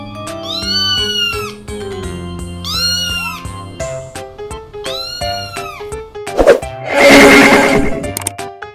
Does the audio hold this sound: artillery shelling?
no